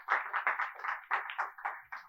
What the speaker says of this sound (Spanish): Dale un fuerte aplauso al Señor si me estás entendiendo.